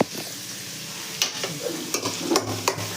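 Frying in a pan for a Tulu home-style dish, a low steady sizzle broken by several sharp clinks and scrapes of a spoon against the pan, close by, no speech.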